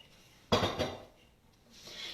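A whisk working in a pot of pumpkin halva gives one brief, fairly loud burst of metallic scraping and clinking, then fades into a quiet kitchen hush.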